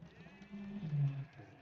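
A sheep bleats once in Age of Empires II, a short nasal bleat at modest volume over a quiet game background.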